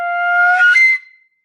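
A woodwind multiphonic imitates a passing siren: two steady sustained tones slide briefly upward near the end, then fade out, played alone and fairly loud.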